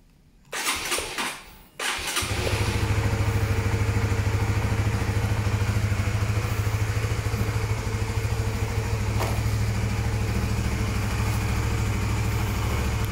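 A used Honda Sonic motorcycle engine cranks and catches after a few clattering tries, then settles into a steady, close, even idle.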